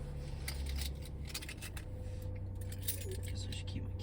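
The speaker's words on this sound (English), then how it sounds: "Guess I should keep my keys in my pocket. It might jingle a little bit." Keys jingle softly and intermittently close by, under a steady low hum of outdoor background noise on a chilly, overcast day.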